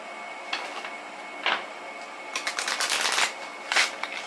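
Millennial Tarot cards being shuffled close up, several short riffling bursts with brief pauses between, ending in a longer run of flicking.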